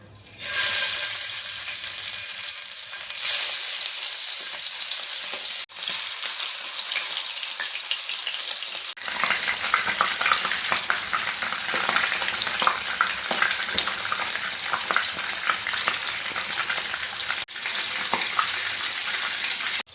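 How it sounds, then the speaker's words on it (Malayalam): Prawns fry in hot oil for Kerala-style prawn fry, a dense, steady sizzle that grows louder and crackles more once more pieces go in, close up with no talking. "എണ്ണ ചൂടായിട്ടുണ്ട്. നമുക്കിതിലേക്ക് ചെമ്മീൻ ഓരോന്നായിട്ട് ഇട്ട് ഫ്രൈ ചെയ്തെടുക്കാം."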